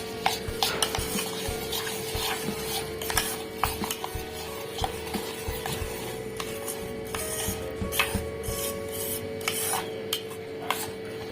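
A spoon stirs jaggery into tamarind pulp in a pot, giving repeated scraping and rubbing strokes against the vessel along with light clinks, close and steady throughout with no voices.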